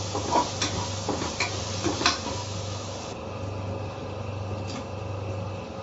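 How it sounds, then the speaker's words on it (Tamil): Garam masala and fennel powder sauté in a pan for prawn biryani, a steady soft sizzle under a low hum, with a few scraping stir strokes near the start and no voices. "கரம் மசாலா தூள் சோம்பு தூள் எல்லாத்தையும் நல்லா வதக்கிக்கணும்"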